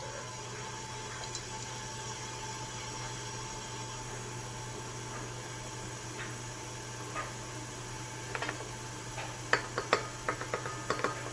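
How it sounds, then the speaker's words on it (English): An electric mixer hums steadily at low volume while stirring flour into vegan cinnamon roll dough. Light clicks and taps rise near the end. "now we're going to add 1 cup at a time of flour. And turn it on to stir."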